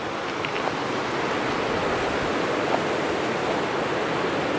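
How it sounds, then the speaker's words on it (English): The Snoqualmie River flowing over rocks beside a grassy bank in autumn, a steady broadband rush of water that holds an even level throughout with no voices. "Right beside the river. Nice pattern of rocks in the river."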